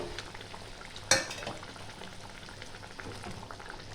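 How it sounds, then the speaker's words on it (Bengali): Rui fish mustard curry gravy bubbles steadily in a pan, a soft continuous simmering sizzle broken by one sharp utensil clink near the start. "ভালো করে ফুটে গেছে, এবার দিয়ে দেবো মাছগুলো"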